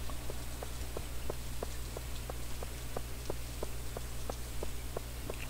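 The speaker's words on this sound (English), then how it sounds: "it is raining" Steady rain falls in the farming video game Stardew Valley, a constant soft patter with regular light droplet ticks repeating throughout, alone and without talk.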